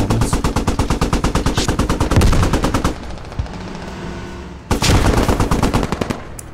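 Rapid automatic gunfire in an armor squad battle video game, dense repeated bursts of machine-gun shots, a brief lull around the middle, then another loud sustained burst.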